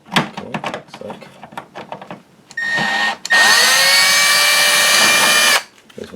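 A power drill removing screws from the bottom of a Hisense dehumidifier, with handling clicks and rattles first, then a brief motor whir and a longer, steady, loud high-pitched spin that winds down.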